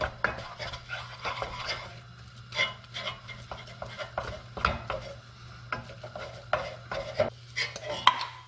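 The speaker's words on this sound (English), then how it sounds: "we're gonna dump the flour all at once, and we are gonna mix" Flour is stirred into melted butter in a pot for éclair dough, producing soft irregular scraping and knocking strokes at close range, with no talk.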